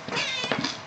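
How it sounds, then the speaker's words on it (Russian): A pet house cat lets out a single drawn-out, slightly strained meow, close and clear, lasting under a second with no talking. "котик, это у меня кот."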